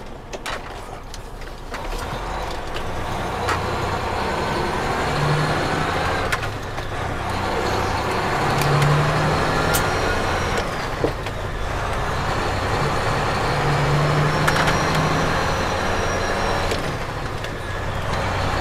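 A truck on a local trip on a cold gray December day, steady engine and road rumble heard from inside the cab, with occasional clicks and rattles and slight rises in engine tone.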